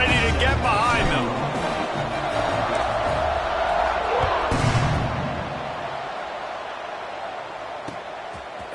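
A football video game stadium crowd gives off a steady, broad roar beneath continuous play-by-play commentary, swelling slightly and then easing off toward the end.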